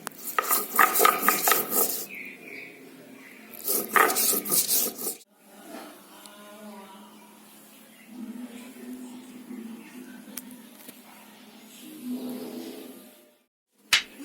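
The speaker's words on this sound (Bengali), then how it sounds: "জিরে আর ধনেটা বেটে নিচ্ছি মাছের ঝোল আর লাউ তরকারিতে দেবো বলে।" Cumin and coriander are ground on a grinding stone, a close, loud gritty scraping in two bursts, followed by quieter clinks and faint kitchen sounds.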